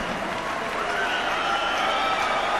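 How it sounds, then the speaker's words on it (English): A boxing arena crowd at a Kevin Mitchell vs Breidis Prescott bout keeps up a dense, steady roar of applause and cheering, loud and continuous throughout. "Ladies and gentlemen, a round of applause for the talented, the gallant Breidis Prescott."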